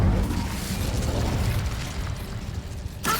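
A fiery burst erupts from an Incendio spell in Hogwarts Legacy, a loud whooshing blast that fades over a few seconds, followed by a sharp click at the end.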